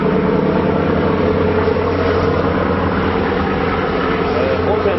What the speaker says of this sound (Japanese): またエンジンの回転が上がりました。